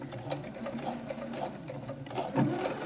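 A sewing machine stitches fabric on a boho frock in a steady, quick mechanical patter of needle strokes, moderately close, with no talking.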